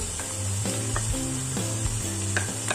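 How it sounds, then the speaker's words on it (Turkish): Green peppers sauté with garlic in a pan, giving a constant close sizzle with scraping and clicking from stirring, no talking. "Biberlerimizi de güzelce kavurduk."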